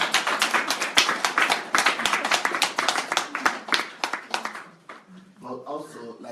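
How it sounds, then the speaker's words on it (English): A handful of people clapping in irregular, scattered claps that thin out and stop, followed by a voice speaking. "You want to clap?"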